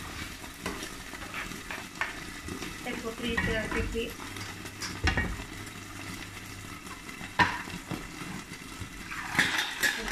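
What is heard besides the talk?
clams cooking in a covered pan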